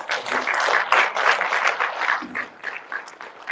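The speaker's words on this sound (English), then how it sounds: "A round of applause for our wonderful performers Ajina Madhurangan, Labisa Paranidharan" Audience applause for the performers at a Tamil Heritage Month opening ceremony, a dense, steady round of clapping from a crowded hall that gradually thins toward the end.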